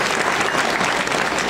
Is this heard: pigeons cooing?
no